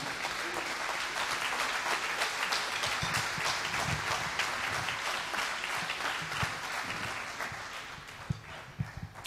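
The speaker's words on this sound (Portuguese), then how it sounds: "Para eles, uma salva de palmas." Sustained applause from a festival audience for the Sociedade Filarmónica Progresso Biscoitense philharmonic band, dense crowd clapping heard from a distance at a steady level for the whole stretch.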